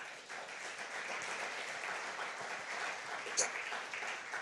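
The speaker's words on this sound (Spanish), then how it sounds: "Denle un aplauso al Señor" A church congregation claps in a soft, steady round of applause, fairly distant and even, with one brief sharper clap or shout near the end.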